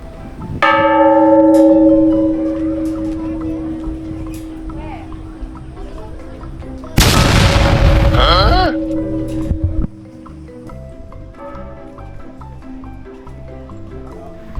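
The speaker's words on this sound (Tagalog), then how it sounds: "ito yung wishing bell at susubukan din natin." A wishing bell at Batu Caves is struck twice, each strike ringing out loud and bright then decaying, the second a sharp clang cut short, with people talking nearby.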